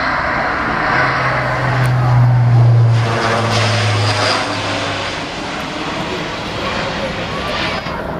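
Airbus A400M turboprop taking off at the RIAT air show, a loud sustained propeller-engine roar with a deep droning hum, heard under a commentator's voice.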